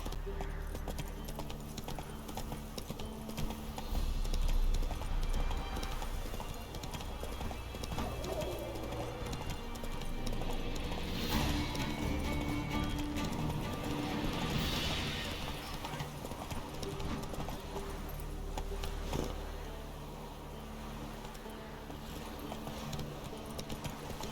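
A horse is ridden at a steady walk-to-trot in The Witcher 3, its hooves clip-clopping in an even, continuous rhythm over ambient game sound, with a rider's voice occasionally heard urging it on.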